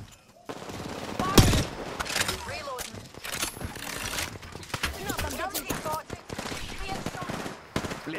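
Rapid automatic gunfire in Apex Legends, with dense bursts of shots through most of the stretch and a loud crack early on, as a player talks over the firing.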